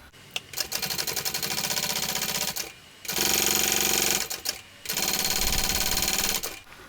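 A sewing machine stitches vinyl for a shoulder bag in three loud, rapid mechanical bursts of chattering, each running a second or more, separated by brief pauses.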